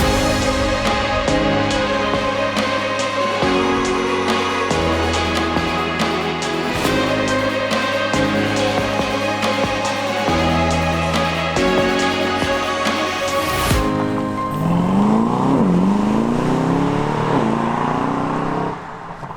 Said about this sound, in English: So let's go for a drive and see what the DBX 707 is all about.